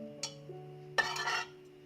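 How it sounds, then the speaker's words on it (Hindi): Small hard cardamom pods drop into a pot of hot ghee with a couple of light clinks, then a brief burst of crackling sizzle, close and quiet over a steady low hum. "अब ये 3 अदद इलायची हम घी में डालेंगे।"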